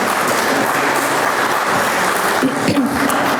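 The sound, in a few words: audience applause at ribbon cutting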